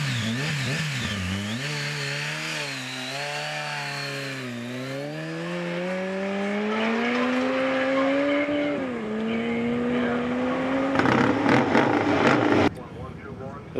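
A race car on a speed run at the Bonneville salt flats, its engine note climbing through several gear changes, each rise followed by a drop, loud and sustained before a burst of rough noise and an abrupt cutoff.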